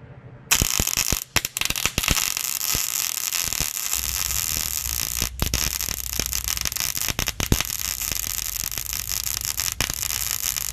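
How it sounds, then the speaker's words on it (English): An industrial welder welds an exhaust hanger onto a cube van for a custom generator exhaust. A loud, steady crackling hiss runs for about ten seconds, broken by short pops and brief gaps, with no voices. "Yeah, welder does sound nice."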